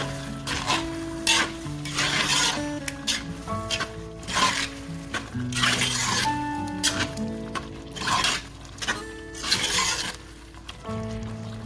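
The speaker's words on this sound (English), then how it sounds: "So half cup of beaten yogurt, you're going to add in this. And we are going to mix it." Beaten yogurt is stirred into chicken karahi in a hot pan, sizzling loudly while a spoon scrapes and clinks against the pot in repeated, uneven strokes.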